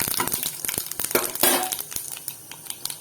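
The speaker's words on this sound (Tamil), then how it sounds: "சிவந்ததும் கடுகு. நல்லா படப்படன்னு பொரியுது." Mustard seeds popping and spluttering in hot oil with roasting chana dal for oats upma, a dense run of close, sharp crackles and pops throughout with no talk.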